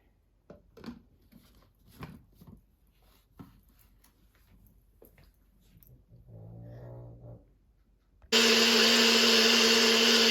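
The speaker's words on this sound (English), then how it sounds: "what we're going to do is just blend this" A kitchen blender blends jalapeno salsa, beginning with a low grinding whirr that settles into a loud, steady high-pitched roar. Scattered handling clicks and knocks come before it starts, with no talking.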